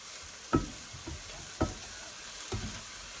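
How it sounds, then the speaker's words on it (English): Oyster mushroom, pak choi and soaked tofu fry in a pan with a soft, steady sizzle, broken by a few louder stirring scrapes and clacks spaced about a second apart. "Bit of sizzle."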